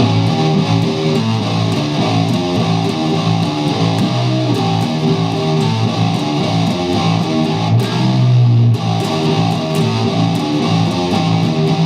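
Heavily distorted electric guitar plays a slowed-down bend-up riff, a thick, loud, sustained wall of overdriven tone running steadily throughout with a brief dip near the end.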